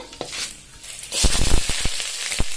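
Chopped onions frying in hot oil with cashews and a bay leaf for coriander rice, a steady sizzle broken by sharp scrapes and clinks of a spoon stirring against the pan.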